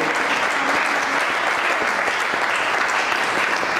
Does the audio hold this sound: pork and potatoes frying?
no